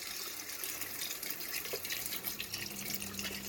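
Beef broth pours into a pot over seared oxtail for soup, a faint, steady splashing trickle of liquid lasting a few seconds, alone with no talk.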